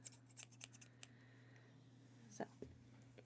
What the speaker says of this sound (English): I do have some very nice sounding scissors.